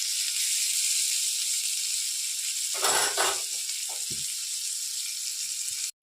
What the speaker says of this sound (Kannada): ಅದು ಕೆಂಪು ಆಗಬೇಕು, ಅಲ್ಲಿವರೆಗೂ ಹುರಿಬೇಕು.